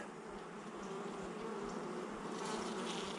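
Honey bees buzz in a dense, continuous drone during an open hive inspection, a steady close swarm hum that swells slightly toward the end, with no voices.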